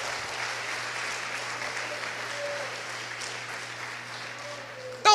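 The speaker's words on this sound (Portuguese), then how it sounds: "Dá um aplauso para Jesus por isso" Church congregation applauding during a Portuguese-language sermon, a steady wash of many hands clapping at a moderate distance, holding an even level for several seconds with a faint low hum underneath.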